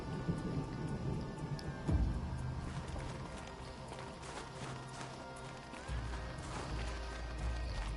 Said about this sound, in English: Volcanic lightning.